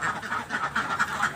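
Egg-laying ducks on a duck farm quack continuously, a dense flock of nasal calls overlapping in quick succession, close and fairly loud.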